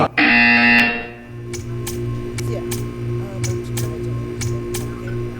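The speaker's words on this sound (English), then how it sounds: "You will hear a buzzer." A harsh, loud buzzer blares for about a second in Minecraft, then gives way to a low hum with sharp ticking clicks at irregular intervals.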